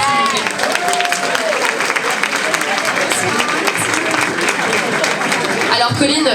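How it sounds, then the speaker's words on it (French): A crowd at the Miss Yonne 2024 pageant applauds the jury president, Miss Bourgogne 2018, with loud, sustained clapping and cheering. A host's voice and scattered shouts run over the applause throughout. "On l'applaudit bien fort, s'il vous plaît."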